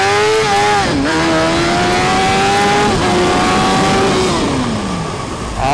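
A Suzuki GSX-R1000 motorcycle engine revs hard and loud at close range, its pitch rising and dropping through gear shifts as the bike accelerates.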